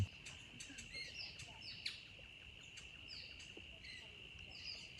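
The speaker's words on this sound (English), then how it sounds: "Listen, there'll be a lyrebird also." A lyrebird calls faintly in the distance, repeated chirps and whistles over a steady high insect drone and soft outdoor background noise in Pittwater.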